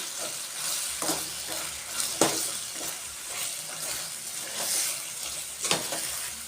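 Crisp fried cauliflower for Gobi Manchurian is tossed and stirred in a hot pan over high flame: a continuous sizzle under repeated scraping strokes of a spoon against the metal.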